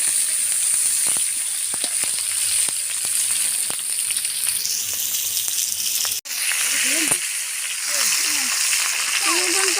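Tengra catfish and prawns frying in a pan for a curry, a steady dense sizzle throughout with brief stirring clatters, a short break partway, and a voice speaking briefly in the latter part.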